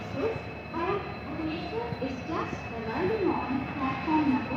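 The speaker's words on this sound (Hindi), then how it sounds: "ये हीराकुद एक्सप्रेस का अनाउंसमेंट चल रहा है" A public-address voice echoes across a railway platform at Sambalpur Junction announcing the Hirakud Express, heard at a distance amid steady station rumble and noise.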